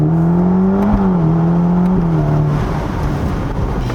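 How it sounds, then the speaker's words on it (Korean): A Ferrari Roma Spider in sport mode, with gears selected manually, accelerates from a high gear: a loud, close, steady engine drone that wavers slightly in pitch and eases off slightly toward the end, with no talk. "일부러 제가 고단을 넣고 가속해 볼게요."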